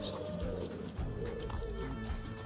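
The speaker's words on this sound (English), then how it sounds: "Do you hear the bird sound?" A pigeon-like bird coos softly in the Royal Botanic Garden in Edinburgh, giving repeated low calls over faint ambient noise.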